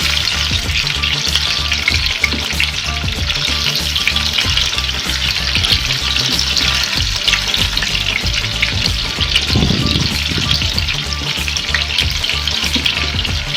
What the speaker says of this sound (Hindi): बिल्कुल हल्के फ्लेम पे आप लोगों ने इसको फ्राई करना है।